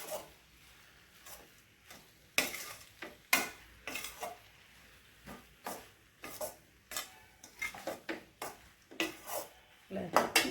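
Crumbled idli for idli upma tipped into a pan a little at a time and stirred, with repeated scraping and clinking of a spoon against metal and a faint sizzle underneath.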